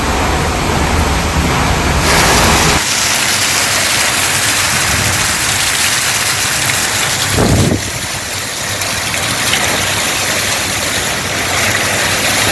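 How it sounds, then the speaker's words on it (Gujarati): Heavy rain with wind pours down in a loud, steady roaring hiss over open farmland that never lets up. "આજુબાજુમાં ખેતે કંઈ દેખાતું નથી એવો વરસાદ છે."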